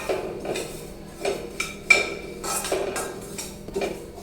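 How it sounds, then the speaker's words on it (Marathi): Ajwain and poppy seeds are dry-roasted without oil in a metal kadhai. A spatula scrapes and clinks against the pan in repeated, irregular strokes, close and moderately loud, with no voices. "ओवा आणि खसखस ही एकत्र भाजून घ्यायची आहे."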